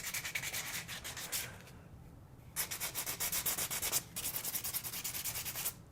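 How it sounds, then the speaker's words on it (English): Artificial fruit lightly sanded to scuff its shiny surface for painting: brisk rhythmic rasping strokes, close and steady, in two runs split by a brief pause, with no voices. "First, I'll start by lightly sanding the fruit to scuff up the surface."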